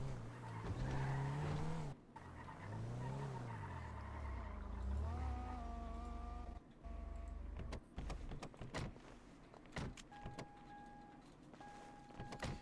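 Car engine in a GTA roleplay game hums and revs as the vehicle drives, broken by short gaps and clicks, with faint steady electronic tones near the end.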